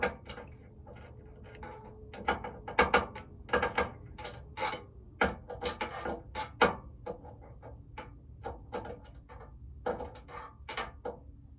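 Fittings are tightened by hand while a gas stove is converted to propane, producing a close series of sharp metallic clicks and ratcheting ticks in irregular clusters, with brief pauses between them.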